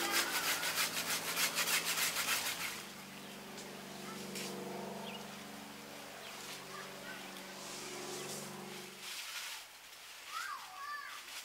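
A saw rasps steadily through a mango tree branch in rhythmic strokes for several seconds, then stops, with faint outdoor background and distant voices.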